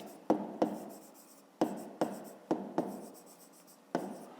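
Pen or pencil writing numbers by hand on paper during a school maths exercise, a series of sharp scratchy strokes and taps roughly every half second, close and fairly quiet with no voices.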